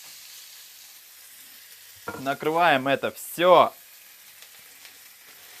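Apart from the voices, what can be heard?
meat frying in a pan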